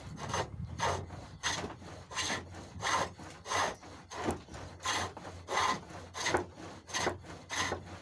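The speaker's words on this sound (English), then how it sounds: "Now we move to a 3/4 inch shaping gouge, and this is where we really start taking some wood off." A 3/4 inch shaping gouge cutting hawthorn wood on a foot-powered pole lathe, regular back-and-forth rasping strokes about every two-thirds of a second, close and steady with no talking.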